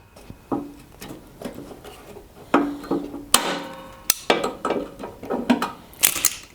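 Vise-Grips locking pliers work a snapped bolt out of the front auger system of an MTD snowblower, making irregular metallic clanks, scrapes and knocks close by.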